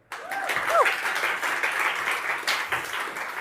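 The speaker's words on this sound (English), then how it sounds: "Please give a big hand of applause for Rachel" An audience at a conference talk on incident management gives a speaker a round of applause, a steady burst of clapping that starts abruptly and holds at an even level.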